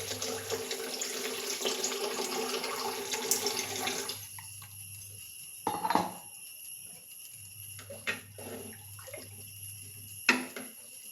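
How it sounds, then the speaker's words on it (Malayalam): Water pours and splashes into a pan of curry for several seconds, then gives way to quieter simmering with occasional clinks and scrapes of a utensil against the pan. "ഇതിലേക്ക് ആവശ്യത്തിനുള്ള വെള്ളം കൂടി ചേർത്ത് കൊടുക്കാം."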